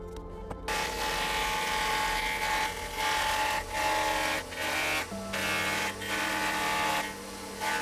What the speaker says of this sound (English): So we're gonna try use this joiner.